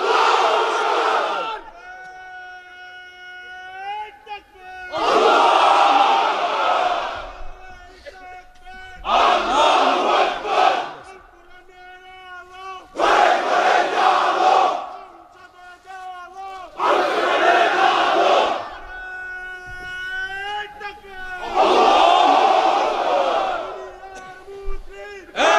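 At an Islamic sermon gathering, a large crowd of unmarried men roars the takbir 'Allahu Akbar' in unison. About six loud, drawn-out chants come in regular waves, each a few seconds long, with short pauses between them.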